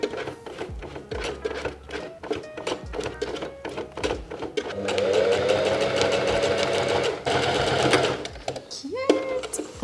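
Sewing machine stitching fabric for a padded vest, a steady fast mechanical whir in bursts, sped up and sustained in the middle, with hands pushing and pulling the fabric through.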